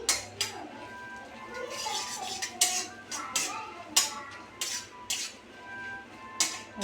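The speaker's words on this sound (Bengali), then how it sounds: "একটু নেড়ে নেবো হালকা করে" A utensil scrapes and clinks against a pan while shahi paneer curry is stirred, a series of close metallic taps and scrapes at irregular intervals over a quiet background.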